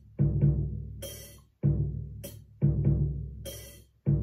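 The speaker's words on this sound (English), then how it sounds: "That's an electronic hi-hat." In a song, an electronic hi-hat plays sharp hissing bursts in a repeating pattern over a looping, pulsing backing of lower tones, heard fairly faint.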